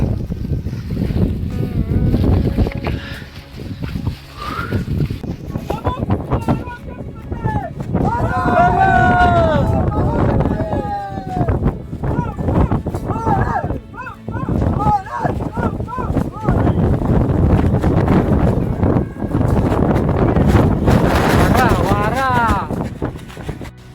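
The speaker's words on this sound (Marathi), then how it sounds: "वाऱ्याचा आवाज तुम्ही ऐकू शकता" Strong gusty wind on a misty hilltop roars and buffets the microphone throughout, with people talking loudly over it.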